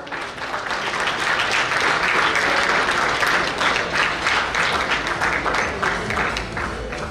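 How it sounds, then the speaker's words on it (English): Sustained applause from a banquet audience at an award night, dense and steady from start to finish, loud and close with no speech over it. "A big round of applause for Dr. Saab"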